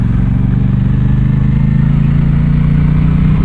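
An Aprilia Tuono 660 Factory motorcycle engine drones steadily at a constant, loud pitch, riding close with a throbbing low pulse and no voices over it.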